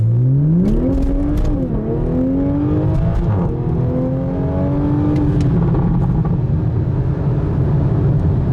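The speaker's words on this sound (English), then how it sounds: "Full throttle in sport mode." A 2020 Toyota Supra fitted with a Borla ATAK exhaust is run at full throttle in sport mode, its engine note climbing loudly through rising pitch, briefly dipping between gears, then settling into a sustained roar near the end.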